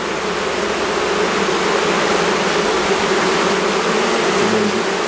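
Black honey bees at a hive at the Orne black bee conservatory give off a dense, steady swarm hum. It is loud and close, with no break across the whole stretch and no voices.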